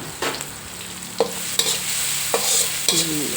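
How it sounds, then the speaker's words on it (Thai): Chili and garlic frying in oil for a spicy Thai fish stir-fry, a steady sizzle broken by several sharp scrapes and clinks of a utensil stirring in the pan, close and with no talk. "แล้วก็มาเจียวพริกกับกระเทียมให้หอมก่อน นี่นะคะใส่ลงไปเลยจ้า เจียวให้หอมนะคะ"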